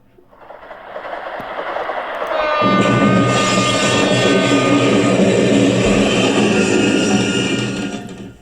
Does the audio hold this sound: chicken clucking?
no